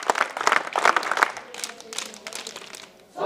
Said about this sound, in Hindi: परम सदे आदरणीय श्री शैलेश यादव जी ऊपर लहराए स्वागत ताली बजा